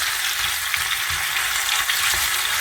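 Veal meat browning over high heat in a stir-fry pan, giving a loud, constant, dense sizzle with faint low bumps from the pan, close up and steady throughout with nobody talking.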